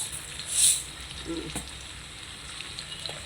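Mustard, fennel and fenugreek seeds fry in hot oil with a low, steady sizzle, broken by a brief brighter burst early on and a few faint pops, close and fairly quiet.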